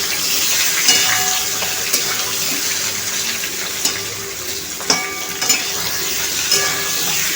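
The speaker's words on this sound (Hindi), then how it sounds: "हमें आलू को अच्छे से फ्राई करना है तेल में।" Potatoes frying in hot oil over a high flame for masala aloo give a steady, close sizzle with a faint ongoing hiss and occasional sharp pops and clinks of stirring.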